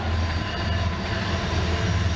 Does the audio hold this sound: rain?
no